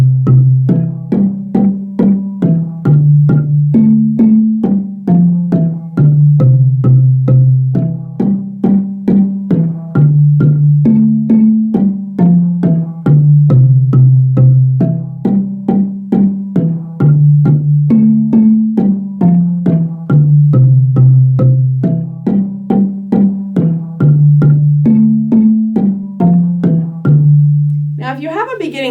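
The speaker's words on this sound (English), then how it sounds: "Here's what the basic baritone sounds like." A marimba band plays a basic baritone part, a steady looping low melody of mallet strikes repeating in a rhythmic cycle, loud and close, with a brief voice at the very end.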